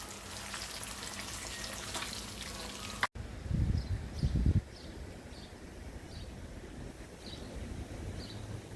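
Eggs frying in oil in a pan for an egg and potato masala curry, a steady faint sizzle that stops abruptly and resumes, with brief louder bumps of handling partway through.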